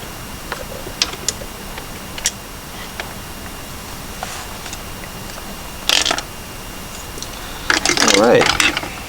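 Small metal screws are worked loose with a screwdriver from a Lexus LS430 speedometer cluster, giving scattered light ticks and scrapes, a couple of brief clattering handling bursts, close and quiet.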